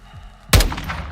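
A single loud gunshot from the video game Call of Duty Modern Warfare II, a sharp close blast with a short ringing tail, heard alone without talk.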